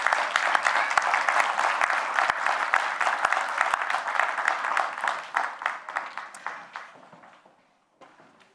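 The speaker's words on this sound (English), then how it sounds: "Can we give these guys a round of applause?" A church audience applauds performers of a Bible story about Ruth, with steady, dense clapping and a few sharp claps that gradually thin out and fade toward the end.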